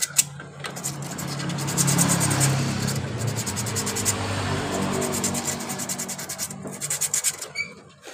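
Sandpaper rubbing over a Honda Genio scooter clutch part, a steady close-up rasping scrape that runs continuously with slight pulsing strokes toward the end.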